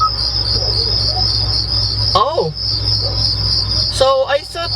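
Steady chorus of crickets chirping, played through the cabin speakers of a 2024 Kia Seltos SX Turbo as a nature-sounds mode, with a few brief higher whistling or bird-like calls near the end and a low hum beneath.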